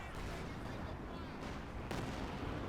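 Heavy gunfire in the Company of Heroes 2 video game, including an Su-85 tank gun firing at a Panzer IV, as a dense, continuous roar of loud booms and crackling shots with a sharper blast near the end.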